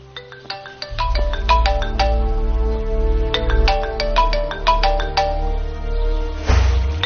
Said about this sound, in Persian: تلفن شما زنگ میزند